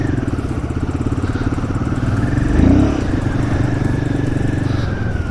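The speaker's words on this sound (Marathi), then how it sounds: "सो आज चाललो आहे बाईक राईडला." A motorcycle ridden on a rainy day toward Gadeshvar Dam near Karjat, its engine a steady, close drone with a brief swell in revs midway and no talk.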